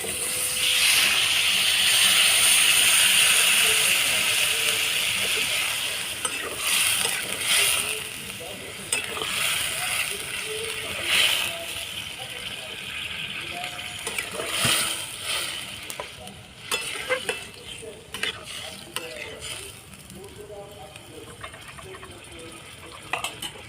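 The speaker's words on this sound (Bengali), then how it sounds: "এবার জল দিয়ে দেবো" Water poured into a hot frying pan of egg curry with gathi kochu (taro) and fried egg, hissing and sizzling loudly at first, then settling into a softer sizzle with repeated stirring scrapes.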